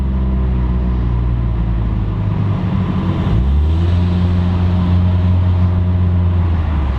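Honda Civic fitted with a cheap aftermarket cat-back exhaust pulling under throttle at about 38 mph, a loud, steady in-cabin engine drone whose pitch dips then climbs smoothly as the car accelerates, with no talking.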